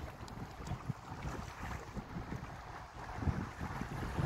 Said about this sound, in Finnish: Aikamoiset aallot.